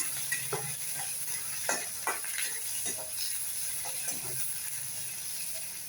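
Tamarind, dried chillies, ginger and tomato sautéing in a hot pan, a continuous hissing sizzle broken by repeated scraping stirs of a spatula, close and clear with no voices.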